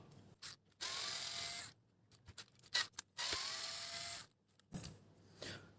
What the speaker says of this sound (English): First, just remove these 2 screws on a priming bar.